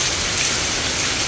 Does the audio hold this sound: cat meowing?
no